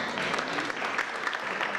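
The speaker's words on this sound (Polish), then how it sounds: "Wielkie brawa oczywiście" Applause at a sports awards gala honoring a youth athlete, a steady dense patter of clapping from an audience that fills the whole stretch without a break, with no voices standing out.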